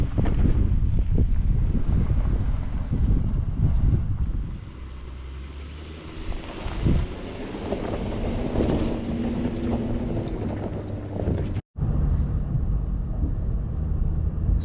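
Strong wind on a mountain top buffets the microphone in a steady low roar, heaviest at first and then settling into a softer rushing gust with brief dips, no voices over it.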